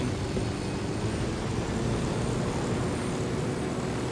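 A helicopter in the video game Ghost Recon Wildlands makes a steady, dense rotor and engine roar that holds even and loud throughout, with no talk over it.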